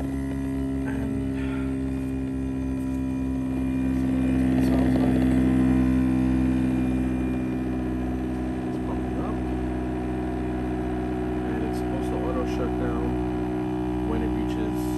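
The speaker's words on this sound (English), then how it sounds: "And it sounds like it's pumping up." Spta cordless foamer pump motor running steadily as it builds pressure, a continuous close mechanical whir and hum with a ratcheting, gear-like texture, swelling slightly midway, while a voice talks over it.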